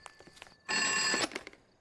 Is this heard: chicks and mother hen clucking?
no